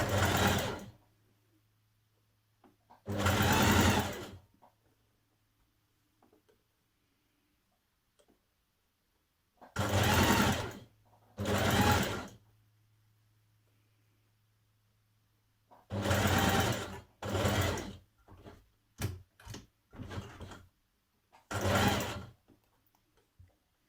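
A sewing machine bastes pleats along the top of a summer dress. It stitches in about eight short bursts of rapid whirring, some longer and some clipped, with near-silent pauses in between.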